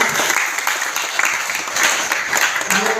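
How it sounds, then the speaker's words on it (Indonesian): Audience at a district assembly meeting in Palangkaraya breaks into sustained applause, dense clapping from many hands that stays loud and even throughout. "Tepuk tangan untuk kita semua."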